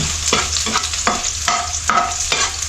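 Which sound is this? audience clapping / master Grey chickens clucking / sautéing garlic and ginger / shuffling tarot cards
sautéing garlic and ginger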